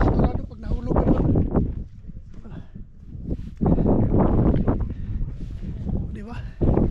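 Strong wind on the summit of the country's second-highest mountain peak batters the microphone in loud, rough gusts that surge and ease in uneven waves.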